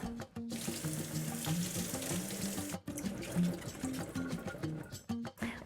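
Cauliflower wedges being rinsed under a running kitchen tap, a continuous close splash of water in a sink broken by a few short pauses and handling knocks.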